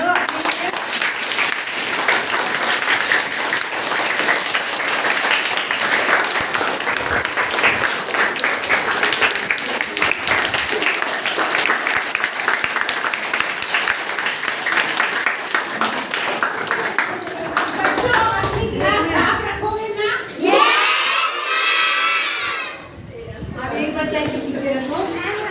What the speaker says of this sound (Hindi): अब आज ताली बजा दो।